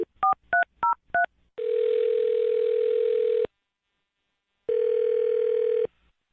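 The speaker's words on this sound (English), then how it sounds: "I'm going to dial her phone number right now" Four quick touch-tone beeps are keyed in, followed by two long electronic ringback tones separated by a pause of silence.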